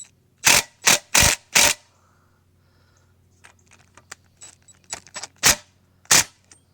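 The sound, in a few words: wrench torquing castellated nut on 1993 Johnson 40hp outboard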